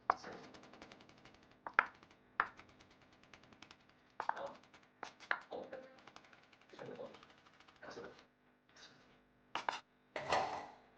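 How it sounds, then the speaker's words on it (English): A knife mincing fresh garlic on a cutting board for a chili pepper beef stir-fry, irregular bursts of quick crisp chops separated by short pauses, close and clear with no talking. "First, mince some garlic"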